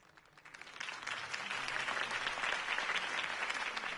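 Steady crowd applause rises and holds after a campaign speech for Harvey Dent in the Batman Telltale video game, a dense, loud wash of clapping that continues throughout.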